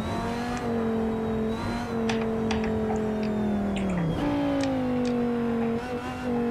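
A race car engine revs hard around the Nordschleife in Assetto Corsa, a loud, sustained drone that climbs and dips through gear changes, with a sharp drop and recovery midway.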